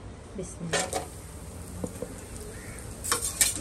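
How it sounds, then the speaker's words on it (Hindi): Dry fruits tossed into hot desi ghee over a slow flame, a soft sizzle under scattered metallic clinks of a spoon against the pan, with a voice talking intermittently. "अभी सबसे पहले हम ड्राई फ्रूट डाल के फ्राई कर लेंगे"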